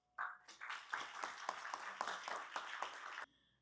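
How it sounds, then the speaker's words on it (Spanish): Loud applause from the audience at a mining law forum bursts in suddenly, a dense patter of clapping with distinct individual claps, then cuts off sharply. "por favor, recibamos con un fuerte aplauso"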